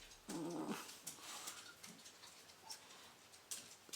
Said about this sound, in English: the dog's not happy either